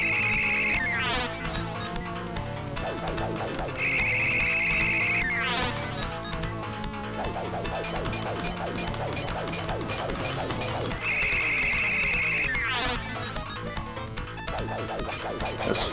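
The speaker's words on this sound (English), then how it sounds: "I love the sound effect for teleporting." Teleporting sound effect from the video game Rocket Knight Adventures, shrill repeated warbling electronic tones with rising sweeps recurring in bursts over busy chiptune game music and effects.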